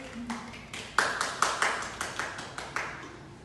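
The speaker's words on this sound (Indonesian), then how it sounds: "Tepuk tangan untuk Fitri." Classroom students clap their hands together in a steady rhythmic pattern of about eight sharp, evenly spaced claps, moderately close, with no talking over them.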